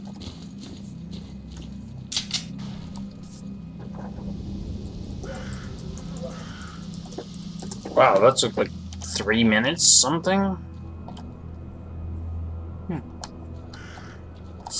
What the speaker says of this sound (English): Kind of eerie. I can hear crows.